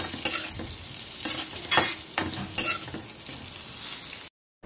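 Fried methi vada is tossed and stirred in a hot pan, a spatula scraping in repeated strokes over a steady oil sizzle, up close and without talk, ending in sudden silence.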